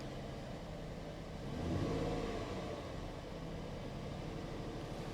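A car engine running rough idles with a low, uneven rumble and briefly revs up before settling back, heard from inside the vehicle.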